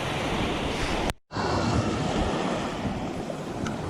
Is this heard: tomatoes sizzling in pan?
no